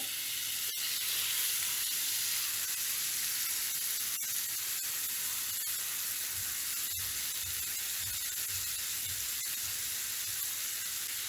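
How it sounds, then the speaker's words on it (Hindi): Chicken pieces sizzle in hot oil in a pan, a loud, steady hiss close by with scattered sharp pops and crackles throughout, and no voices. "और ऑयल गर्म हो चुका है। अभी हम चिकन डाल देंगे"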